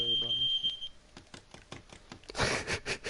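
A smoke alarm sounds a steady high electronic beep for just under a second at the start, then falls silent while people talk and move about.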